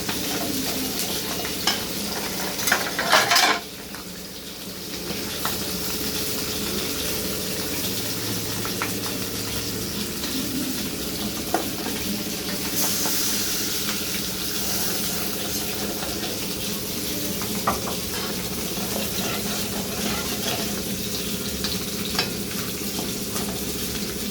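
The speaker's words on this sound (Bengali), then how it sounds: "মশলাটা ভালো করে কষিয়ে নিচ্ছি" Spices fry in oil and are stirred, with a continuous sizzle and crackle joined by scraping stirring strokes, close and steady throughout.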